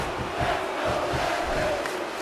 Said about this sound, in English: you can hear the crowd wanting him to stay in this